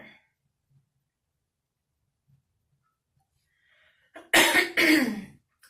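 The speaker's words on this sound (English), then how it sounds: "Excuse me if I keep coughing, guys," Near-silence broken by two loud, harsh coughs close together near the end.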